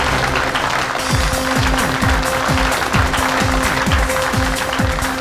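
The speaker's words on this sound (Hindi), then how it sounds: "जोरदार तालियां हो जाए फैजल के लिए" Applause from a studio audience on a Hindi TV show fills the whole stretch as steady, dense clapping, with rhythmic percussive music pulsing underneath.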